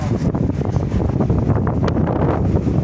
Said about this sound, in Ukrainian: трішки вітряно і прохолодненько